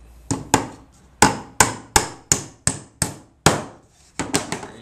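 A hammer strikes repeatedly while a wooden bluebird box is built, about a dozen sharp, close wooden knocks in uneven bursts, with a quick cluster of blows at the end.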